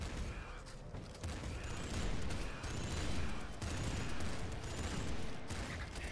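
Rapid gunfire from the slugger weapon in the video game Nuclear Throne Ultra Mod, dense overlapping shots and blasts in a continuous barrage, with a voice talking underneath.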